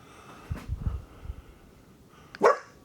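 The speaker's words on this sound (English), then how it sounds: "Shush, no barking." A dog inside a cabin gives two brief barks, a low muffled woof followed by a sharper, louder bark a couple of seconds later, against a quiet room with faint background hiss.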